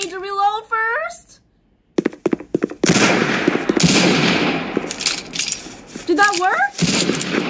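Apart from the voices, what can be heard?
gunshots from a gun in the video game Roblox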